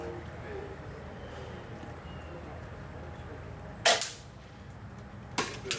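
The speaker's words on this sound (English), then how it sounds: "Good shot, Gavin." Air rifles fire at targets during the 2013 TSRA air gun championships: two sharp, brief cracks about a second and a half apart over a low, steady background hum.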